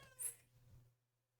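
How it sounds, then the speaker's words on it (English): A single short meow from a cat wanting to go out, faint and somewhat distant, followed by a low steady room hum and then quiet. "Oh, a cat is here, sorry. He wants to go out"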